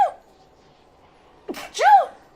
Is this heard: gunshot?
no